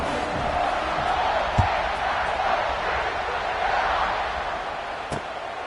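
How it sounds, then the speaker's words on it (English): A large American football stadium crowd roars continuously around a kickoff after a touchdown, a dense, steady wall of cheering and shouting with occasional sharp thuds, loud and sustained throughout. "this crowd now ready to get behind them"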